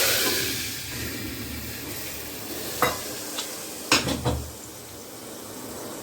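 Moong beans drop into a hot curry-leaf tempering in a pan and sizzle softly, with a few sharp metal clanks of a spoon stirring against the pan near the middle and end.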